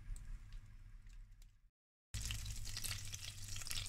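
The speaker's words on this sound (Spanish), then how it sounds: "en el mismo cazo pongo la mantequilla y el aceite" Butter and oil sizzle as they melt in a saucepan, a close, soft frying hiss that stops for a brief silent gap and then comes back brighter and louder.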